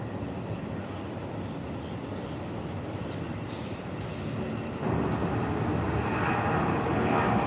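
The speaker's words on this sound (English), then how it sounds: "This plane's gonna get up fast." Loud, steady roar of a jet airliner building thrust on the runway at Tampa International Airport, swelling sharply halfway through as the engines spool up for takeoff.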